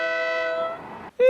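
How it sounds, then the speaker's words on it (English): A passing train sounds its horn in a steady, loud tone that fades slightly, followed by a short gap and a second sharp horn blast. "And it was a train."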